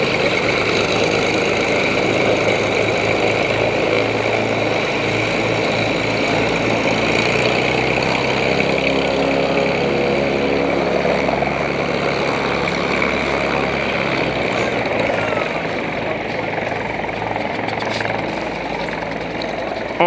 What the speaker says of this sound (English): this plane that was parked in the car park is now taking off